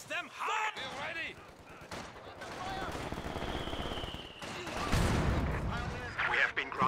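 Gunfire in Company of Heroes 2 from a Maxim machine gun arriving from the side comes as bursts of rapid shots mixed with other battle noise. Some louder blasts stand out, and the firing sits partly under talk.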